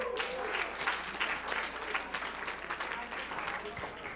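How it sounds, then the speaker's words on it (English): A church congregation claps for the Lord during a Sunday service, a dense, steady patter of many hands filling the room with scattered voices mixed in. "Can we give the Lord a hand clap?"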